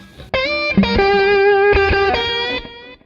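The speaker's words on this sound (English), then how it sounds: "You can hear that little echo like that." An electric guitar plays a blues lick through a delay pedal: a few bent, sustained distorted notes ringing with a soft trailing echo, loud and alone, fading out at the end.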